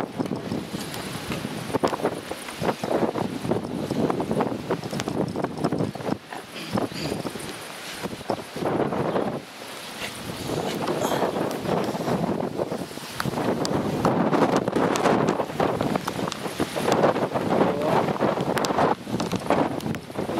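Strong, cold gusty wind buffets the microphone continuously on a veranda before a fast-approaching thunderstorm, rushing and roaring in uneven surges with no one speaking.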